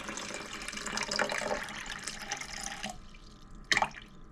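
Filtered water from a Brita pitcher pours into a measuring cup, a trickling splash that runs steadily for a few seconds, stops, then gives one last brief spurt.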